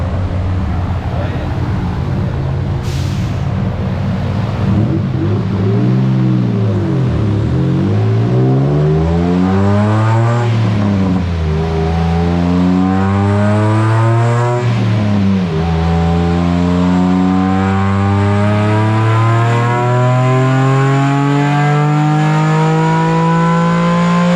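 An old Ford Taurus on nitrous with a stock tune is revved on a dyno, its engine note climbing loud and steady through several sweeping rises and falls, with the tone rising and dropping across the pull.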